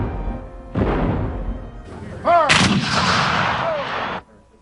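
Cannon fire from an artillery bombardment of Fort Sumter in Charleston harbor: loud heavy booms and sustained rumbling blasts crowd together, with a whistling shell and a sharp final crack.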